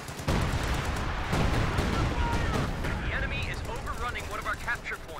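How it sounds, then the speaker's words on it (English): A time-on-target artillery strike lands on an abandoned gun in a real-time strategy game, a loud barrage of overlapping blasts and crackling gunfire, while a commentator talks over the din. "Time on target artillery being dropped on that abandoned gun, so it'll be destroyed and cannot be recrewed"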